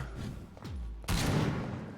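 A single sharp gunshot bang in the video game Vampyr cuts in sharply and leaves a lingering noisy tail, preceded by a faint whooshing swoop.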